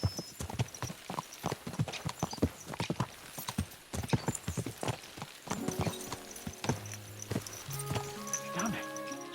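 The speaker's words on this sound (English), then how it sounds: "Let's really spur these horses on, eh?" Horses trot with steady clip-clop hoofbeats throughout this medieval-setting scene from the video game Kingdom Come: Deliverance 2, with occasional whinnies, a voice speaking over the hooves, and tonal game music swelling near the end.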